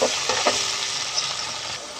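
Tomatoes and green chillies frying in a pan, a steady loud sizzle with a few scraping stir strokes early on, close up with no voices.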